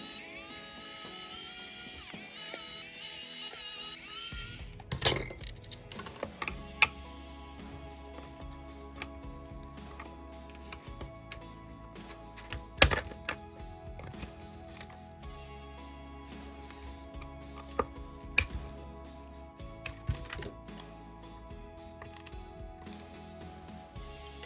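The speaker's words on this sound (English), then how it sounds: "Now we remove the two woofer by unscrewing the 4 screws and carefully prying them off." Small screws being unscrewed and woofers pried off a JBL Xtreme 4 portable speaker during a teardown, a soft high whine of a small driver followed by scattered close clicks, scrapes and taps under a faint hum.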